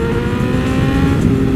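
Brentuned BMW S1000RR motorcycle with an aftermarket exhaust, accelerating hard. The engine makes a loud, steady, close-up roar throughout the short burst, with no talk.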